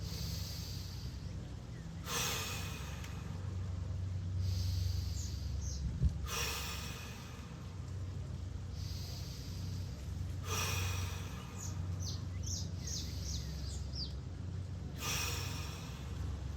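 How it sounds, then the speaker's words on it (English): Five big, deep diaphragmatic breaths, each a loud, close, airy inhale or exhale spaced a few seconds apart, with quieter pauses and faint breathing in between. "5 big breaths. Fill the lungs with air."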